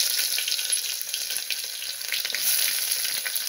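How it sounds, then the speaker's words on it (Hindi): Onions for a chickpea curry fry in a pan, a steady, bright sizzle with fine crackling and small surges, close and alone. "मैं प्याज डाल रही हूँ"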